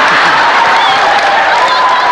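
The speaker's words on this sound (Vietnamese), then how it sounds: "Tôi vỗ tay cho hành động của bạn" Applause and crowd noise from a studio audience on a Hanoi TV game show, loud and dense, holding steady throughout as a continuous wash of claps.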